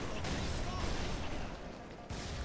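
Gunfire in the Halo 3 campaign on Legendary difficulty, in a desert setting, comes as a dense, continuous barrage of shots and explosions that fills the whole clip at steady loudness, with a brief dip near the end.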